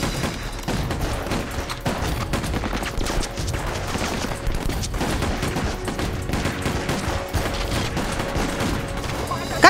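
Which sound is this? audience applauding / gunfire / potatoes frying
gunfire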